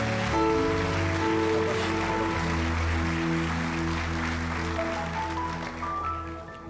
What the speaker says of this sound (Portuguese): Se for aplaudir Jesus, aplaude de verdade.